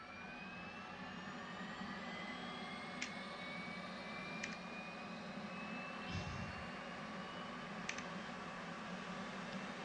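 An F/A-18C auxiliary power unit in the DCS flight simulator spins up as a steady, rising turbine whine over a constant airy roar, with a few faint clicks and a brief low thump.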